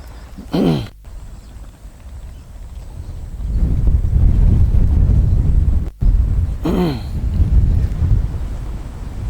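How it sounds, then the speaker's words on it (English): Strong gusty wind buffets the microphone on an outdoor golf putting green, with rumbling low-frequency bursts that rise and fall. Brief voices break through at moments. "No, it's windy, guys."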